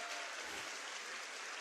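A short burst of round applause, faint and steady clapping from a small group, with no voices over it.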